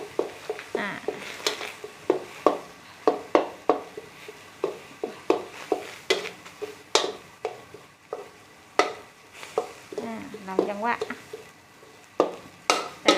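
Southern Thai curry paste stir-fried with water in a pan for kua kling with minced pork, giving repeated sharp scraping strokes of a utensil against the pan over a faint sizzle, close and rhythmic.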